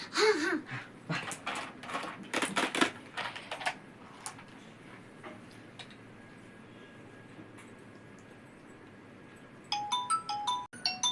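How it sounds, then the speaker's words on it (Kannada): A phone ringtone plays near the end as a short run of bright, stepped electronic tones. Earlier there are scattered noisy bursts and a low background hum. "ಫೋನಲ್ಲಿ ರಿಂಗ್ ಟಾಂಗ್ ಇಟ್ಬಿಟ್ಟು ಅವನ ಹತ್ರ ಯಾರೋ ಕಾಲ್ ಮಾಡಿದಾರೆ ಅಂತ ಕೊಟ್ರೆ"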